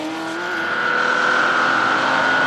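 A Morgan sports car racing at the Le Mans Classic, its engine note loud and near, holding a steady high drone and rising slightly in pitch as it passes.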